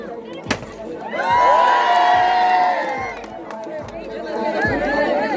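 Crowd at a football final in Nawalpur, Nepal, between Ghumti Club and Siseni Club, cheering and applauding loudly, with shouts and chatter swelling after a brief lull, then fading and rising again.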